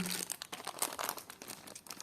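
Small plastic packet holding earrings or clip-ons being handled close up during an unboxing of vintage jewelry, quiet irregular crinkling and rustling in quick bursts, no talk.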